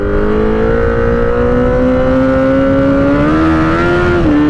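Motorcycle with a titanium exhaust revving loudly and close, holding a steady droning note whose pitch climbs slowly and then dips at the end.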